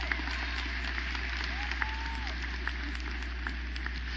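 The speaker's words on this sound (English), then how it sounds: "Let's give that a round of applause" Graduation ceremony audience claps in a steady, distant patter of scattered hand claps over a low hum, faint and even from start to finish.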